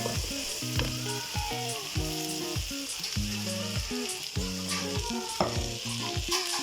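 Rice fried in a pan with white pepper, salt and turmeric, stirred with steady scraping strokes over a constant sizzle, close and clear, with no voice or other sound alongside.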